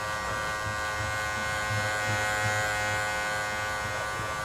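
A hair clipper buzzes steadily and close, blending the top of a haircut in a barbershop, a constant electric hum without pauses.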